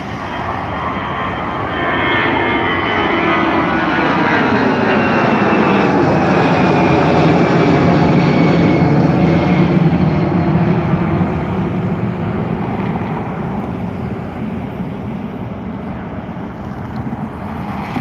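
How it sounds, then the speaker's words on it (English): An Aer Lingus Airbus A320, about 21 years old, takes off from Dublin Airport toward Paris; a loud, steady jet roar builds and sustains throughout with no voices. "right now we have the Aer Lingus A320 taking off right now"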